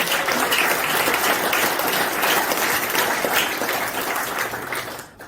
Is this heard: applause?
yes